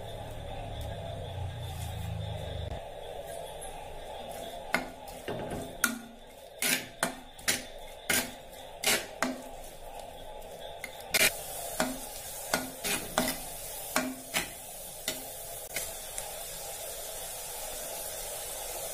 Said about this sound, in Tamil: இப்போ மண் சட்டியில தேங்காய் எண்ணெய் விட்டுருக்கேன். இப்ப இதுல வந்து வெங்காயம் போட்டுக்கலாம்.